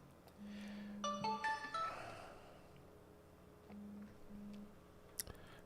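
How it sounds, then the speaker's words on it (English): An incoming call sets off a phone ringtone, a quiet burst of bright electronic tones followed by softer repeated beeps, heard alone in an otherwise calm room. "Sorry, I got a phone call."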